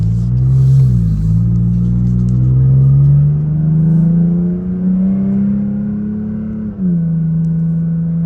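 A Toyota Tacoma pickup on a road accelerates toward highway speed, its engine a loud, steady drone rising in pitch, with a brief dip as it shifts gear near the end, heard up close with no talking.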